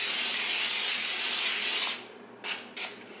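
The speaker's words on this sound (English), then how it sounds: "spray olive oil." Olive oil hisses from a spray can onto a pizza pan in one long continuous burst up close, followed by two quick short sprays.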